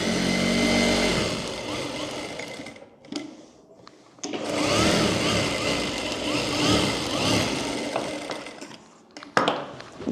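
A sewing machine stitching the neck of a frock blouse runs in loud mechanical bursts, whirring steadily, pausing briefly around the middle, then resuming with a sharp clack near the end.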